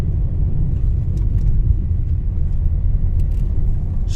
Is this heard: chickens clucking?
no